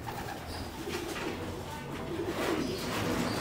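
Domestic pigeons cooing inside a racing loft with an outdoor aviary, soft overlapping coos repeating steadily at close range over a constant background hum.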